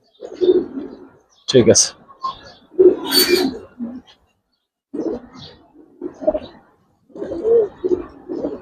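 Silver and coloured pigeons give soft, low cooing calls in bursts with short gaps between them, close by, while someone talks at times over them.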